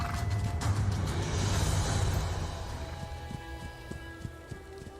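Mongol horse ridden at a steady pace in the Age of Empires IV strategy game, its hoofbeats landing as regular muffled thuds under a dense, rumbling battle ambience that gradually thins out.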